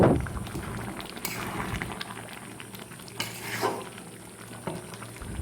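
Chickpea and paneer curry gravy bubbling in a pan, a soft steady simmer with occasional louder pops and spurts of liquid, fairly close and without talk.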